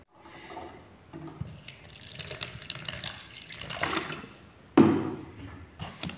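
Water pours and splashes into a container onto calcium acetate powder, a soft steady trickle building up, then a brief louder splash near the end.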